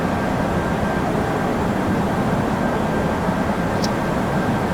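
Airbus jet engines spooling during a flex takeoff in a flight simulator, a steady loud broadband roar with a faint whine, constant throughout with no talk.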